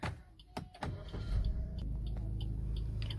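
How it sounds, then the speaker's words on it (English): A 2021 Maruti Suzuki Ertiga ZXI automatic Smart Hybrid is started with its push button: a couple of sharp clicks and a brief starter whirr, then the engine settles into a low, steady idle heard from inside the cabin. "so let's start the car"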